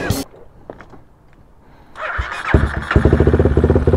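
A Honda Sonic 250cc motorcycle engine while riding stays quiet at first, then swells into a close, throbbing rev with a rapid pulsing beat that grows louder toward the end.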